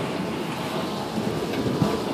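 A thunderstorm with lightning and rain on June 24, 2015 sounds as a steady wash of rain hiss over a low, rolling rumble, continuous and fairly close, with no talking.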